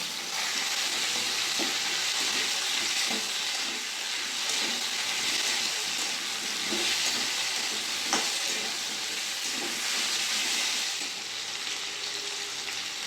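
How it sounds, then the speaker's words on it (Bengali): Pumpkin and potato with ginger paste frying and being stirred in a pan for a prawn curry, a steady loud sizzle with scraping stirs throughout and no speech. "কুমড়ো আলুর মধ্যে দিয়ে দেবো আদা বাটা, একটু নেড়ে চেড়ে নিই"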